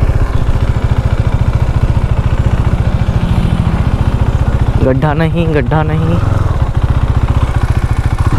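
A KTM Duke 390 motorcycle runs with a loud, close, steady engine thrum while being ridden, and a rider's voice talks briefly over it.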